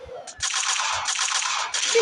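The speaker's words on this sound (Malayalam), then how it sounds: "ഇതിനെ നമുക്ക് ഷൂട്ട് ചെയ്ത്" Rapid bursts of gunfire, several loud volleys in quick succession with brief gaps between them.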